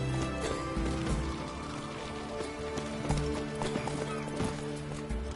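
Horse galloping in The Witcher 3, a steady fast clip-clop of hooves over a dense game soundscape that may include rain, continuous and fairly close.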